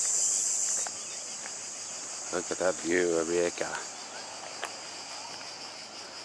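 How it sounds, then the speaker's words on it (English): A loud, continuous high buzzing of cicadas fills the background, with someone speaking briefly over it partway through. "Listen to the cicada."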